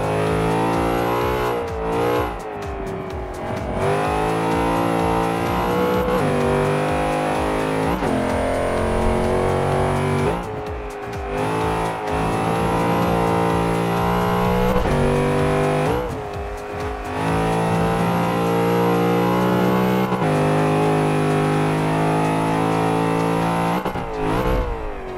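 A Plymouth Cuda Hemi races laps in Forza 5, its V8 engine roaring loudly and revving up through the gears again and again, with short lifts off the throttle between long rising pulls.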